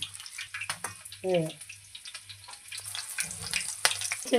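Green chillies drop into hot oil for crispy mirchi bajji, giving a close, steady sizzle with brief bubbling bursts as someone talks over the frying.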